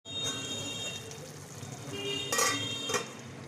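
Gobindobhog rice being washed by hand in water in a pot, soft swishing and stirring with a couple of brief louder splashes and clinks.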